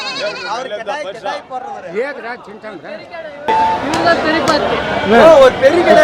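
Goats bleat repeatedly at a busy livestock market in Karimangalam, wavering cries close by over a crowd's chatter and people talking, the din growing louder and denser partway through.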